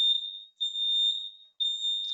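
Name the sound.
fire alarm going off during testing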